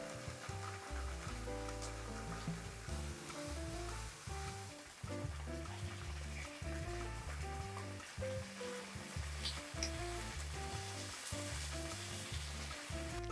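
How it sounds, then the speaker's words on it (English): Steady oily sizzling and crackling of tofu pieces frying in a pan of oil, continuous and close, with no talking. "Continue frying for another 4 to 5 minutes."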